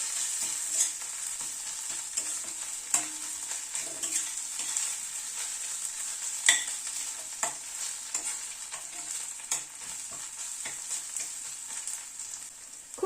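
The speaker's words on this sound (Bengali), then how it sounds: "আদা রসুনটা পেঁয়াজের সাথে একটু ভেজে নেব।" Ginger paste, garlic and onion fry in a pan for an egg curry, a steady close sizzle with frequent sharp scrapes and clinks of a spatula stirring throughout, no voices.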